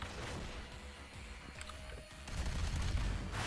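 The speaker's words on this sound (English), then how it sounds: "What is shooting at me?" Enemy gunfire in Doom Eternal, a dense fusillade of shots and booms rattling around the player, steady through the stretch and swelling louder toward the end, with no talk.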